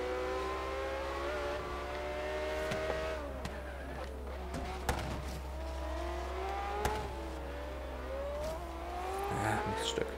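A car engine revs and accelerates while racing in Forza Horizon 3, rising and falling tones as gears shift, with brief tire squeals, heard fairly quietly and continuously without talk.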